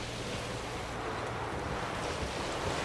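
Sails flutter on a boat in The Witcher 3: Wild Hunt, a steady windy rush that runs unbroken throughout and blends with a faint ocean-like wash.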